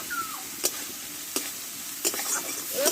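Turmeric-spiced masala frying in a pan for a Bengali potato fish curry: a soft steady sizzle with a few sharp spoon scrapes against the metal, close and fairly quiet, no voices.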